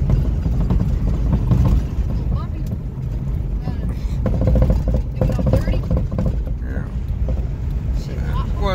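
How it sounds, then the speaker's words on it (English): A vehicle's cabin rattles and thumps as it rolls slowly over bumpy tractor tracks in a field, with an uneven clattering under a low engine drone and brief talk. "causing the vehicle to do that rattling"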